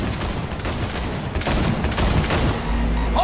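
Gunfire in Cyberpunk 2077 during a vehicle chase, a dense continuous burst of rapid shots over engine rumble and game noise, loud and close throughout.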